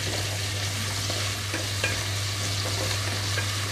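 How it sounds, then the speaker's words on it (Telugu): Cauliflower, cabbage, ivy gourd and tomato pieces frying in a pan for vegetable pulao, a steady close sizzle with a few soft stirring scrapes and a low hum underneath, no voices. "ఒక 2 నిమిషాల పాటు వేయించుకుంటున్నాను"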